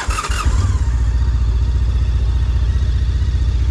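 A Honda ST1300 motorcycle with a stainless steel exhaust idles close by, starting with a brief blip and then settling into a steady, deep, even rumble.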